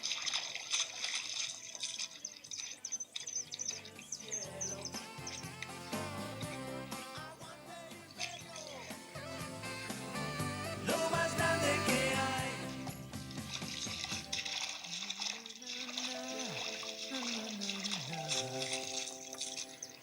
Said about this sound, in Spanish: Escucha el ruido del agua.